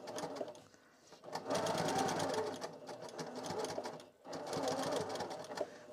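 A sewing machine runs in steady stitching bursts while a plushie is sewn, pausing briefly once partway through before resuming; the mechanical whir is close and clear with no talking.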